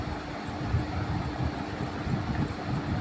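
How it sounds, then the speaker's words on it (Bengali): A train pulls into a railway station near Naihati, and its steady rumble of wheels and carriages holds at a moderate distance with no voices. "তারপরে একটা ট্রেন ঢুকছে"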